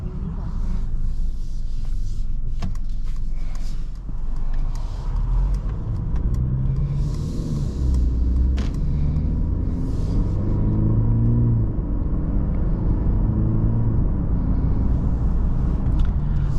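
A 2024 Mercedes-Benz E350 with a 2.0-litre turbocharged inline-four and 48-volt mild hybrid system drives along, producing a steady low engine rumble and road noise heard from inside the cabin, with gentle shifts in pitch and no voices.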